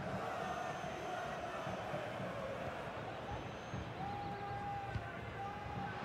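Stadium crowd noise from an FC 25 Real Madrid versus Everton Champions League match, a steady broad roar of the crowd holding at one level throughout, with no clear surges or peaks.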